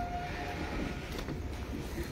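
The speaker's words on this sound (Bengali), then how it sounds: "এক্ষুনি ট্রেন ঢুকবে বলে হ্যাঁ মনে হচ্ছে আরও একটা ট্রেন, যেটা সম্ভবত মেদিনীপুর লোকাল" A local train on the Medinipur line approaches a station with a low, distant rumble under a steady outdoor hiss.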